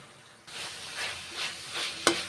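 Vegetables frying and being stirred with masoor dal in a pan, with a soft hiss of sizzling oil, several rising stir-scrape swells, and a sharp clack near the end.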